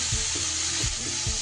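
Spice paste of coriander, cumin and chili sizzles steadily in a pan over lowered heat with vegetables, a dense broadband frying hiss with a few soft low stirring bumps roughly every half second, close and fairly loud, no voices.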